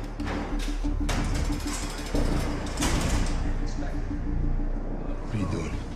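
A heavy prison cell door slides open with a mechanical rumble and clanks, while tense shouting voices overlap the noise of the fight.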